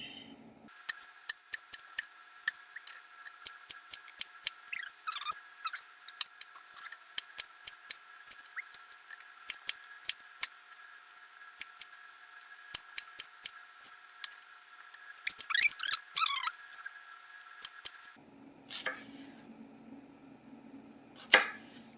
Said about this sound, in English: Medium dice into pieces about